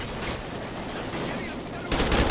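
Rapid automatic gunfire from Call of Duty Ghosts gameplay, dense continuous bursts of shots with a louder, closer volley near the end.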